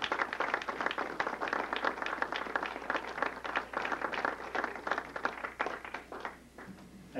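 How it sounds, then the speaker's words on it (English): Audience applauding John Lewis Gaddis at a museum lecture event, a dense, steady wash of many hands clapping that carries on for several seconds before thinning out. "So please, let's all give John a round of applause today."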